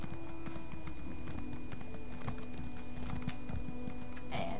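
Steady clip-clop of horse hooves trotting at an even rhythm in the video game Elder Scrolls Online, over a low background hum, with a faint whinny near the end.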